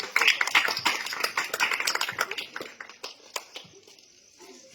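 Audience applause at a Shiv Shakti puja mandap committee gathering during a New Year program: dense, crisp clapping from many hands that thins out toward the end into scattered claps.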